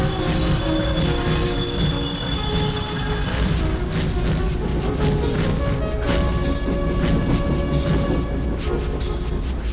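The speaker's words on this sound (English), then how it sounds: "He brought the train to a stop at the next station." A train rumbles along with metallic wheel squeals and clanks, rolling and grinding steadily as it slows, loud and close throughout.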